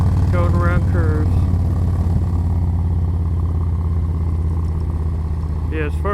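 Harley-Davidson Low Rider motorcycle cruising through curves, a steady low engine drone with wind noise, heard from the rider's position, while someone talks over it briefly.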